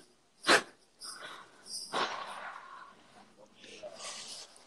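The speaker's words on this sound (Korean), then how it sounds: "강아지인가요?" A pet puppy snorts sharply once, then gives a run of smaller snuffles, sniffs and breathy noises close to the microphone, with no talk over them.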